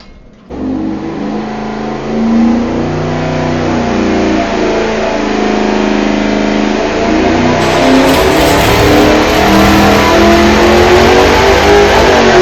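A 383 small-block Chevy V8 fitted with sprint car headers revs hard on a dyno, a loud steady roar that climbs and holds for over ten seconds with no voices.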